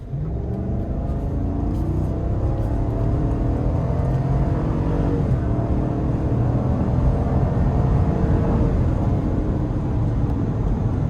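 A GMC Yukon AT4 with a naturally aspirated 6.2-liter V8 accelerates hard in traffic, its deep engine note rising steadily in pitch as it gains speed, loud and continuous throughout, heard from inside the cabin.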